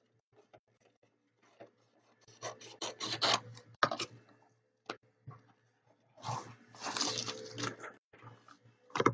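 Scissors trimming the edges of a paper notebook page, heard as close scratchy cuts and paper rustles in irregular bursts with quiet gaps between them.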